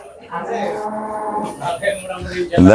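A cow on a farm, one of a pair of purebred milking cows, lets out a loud, close, drawn-out moo, followed by a second, rougher bellow at the end.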